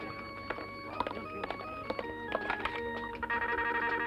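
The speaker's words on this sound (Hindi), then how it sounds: "साहब, आपका फोन।" A telephone rings and beeps with bright electronic tones and short clicks, fairly close and steady, with no voices.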